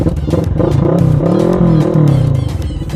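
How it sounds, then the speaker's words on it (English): A 2017 Kawasaki Vulcan 650 motorcycle's parallel-twin exhaust rumbles close by, a steady throbbing idle that swells with a brief rev and settles back down. "very nice exhaust"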